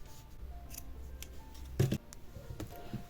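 Scissors snipping crochet yarn at the end of a ruffle heart top, a single quiet close cut with a few faint clicks around it in a quiet room.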